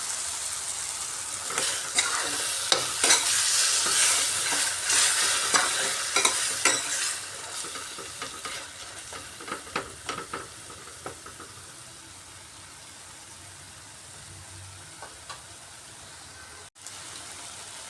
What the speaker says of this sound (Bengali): মশলা কষানোর এই পর্যায়ে সামান্য জল দিচ্ছি। জল দিয়ে আরও কয়েকটা কারি পাতা দিয়ে দিলাম।